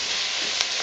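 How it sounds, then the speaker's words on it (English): Onion sizzles in a pan over medium to medium-high heat as the base for a lentil soup, a close, even, bright hiss with one brief sharp tick partway through. "So I'm sauteing the onion on a medium to medium high heat so that it turns golden on me."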